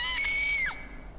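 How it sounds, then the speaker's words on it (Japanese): A woman's high, sustained scream from the Japanese horror mystery video game Kamaitachi no Yoru, loud and alone, bending downward as it breaks off after well under a second, over a low background hum. "ドアが開く音と悲鳴が廊下から聞こえるまでは。"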